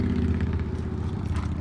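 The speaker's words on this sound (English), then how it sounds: "Sorry about the noise, I live on the highway here." Continuous low rumble of passing highway traffic, with engine drone and tyre noise steady and fairly loud throughout the short stretch, no speech.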